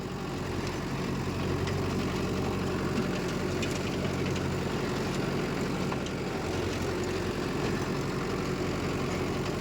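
A Mahindra Yuva Tech tractor engine runs steadily with a 585 rotavator attached, a loud continuous low drone and rumble throughout with no pauses and no talk.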